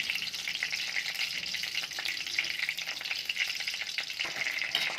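Curry leaves and mustard seeds fry in about three spoonfuls of hot oil, giving a dense, steady sizzle with small crackles and pops throughout, close and continuous with no talking.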